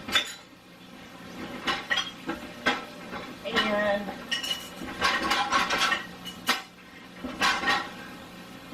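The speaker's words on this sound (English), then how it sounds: "these dishes do not feel like they dried at all" Dishes and cutlery clink and clatter repeatedly while a dishwasher is emptied at home, close and fairly loud, in irregular bursts, with a brief spoken word.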